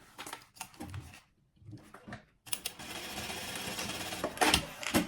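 A sewing machine stitches a fabric strap for a sublimated maternity kit, starting with a few short bursts and pauses, then running in one continuous fast whirring stretch, close and clear with no talking.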